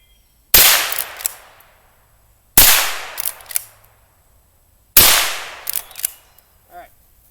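Three sharp, loud shots from a Henry .22 lever action rifle fired into leather, evenly spaced about two seconds apart, each followed by a short lever-action rattle and a fading echo, with no speech.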